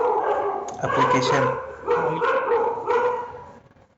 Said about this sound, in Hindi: कुत्ता कहाँ भौंक रहा है यार?